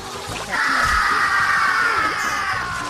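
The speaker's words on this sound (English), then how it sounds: "at every 5 seconds just screaming their lungs out, like they really like to spam this noise throughout the game" Rabbids from the video game Rayman Raving Rabbids let out a loud, sustained scream over busy game sounds, lasting most of a few seconds with no pauses.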